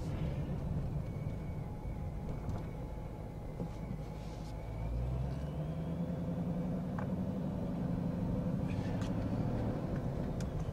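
A Procharged Dodge Charger Scat Pack rolls along on drag radials, its engine a steady low rumble and drone with tire roar, rising slightly in pitch midway as it cruises, continuous and close throughout.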